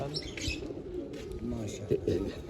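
Pigeons coo softly and chirp among a flock of racing birds. Low voices talk over the calls throughout.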